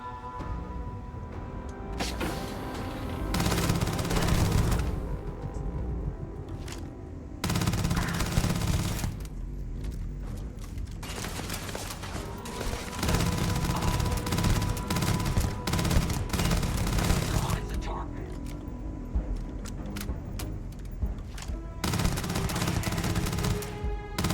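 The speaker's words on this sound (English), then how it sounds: "Show you that Grendel. Some more automatic rifle." Sustained automatic fire from a Grendel rifle in the video game Starfield, loud bursts of rapid shots coming in long stretches, broken by a few short pauses.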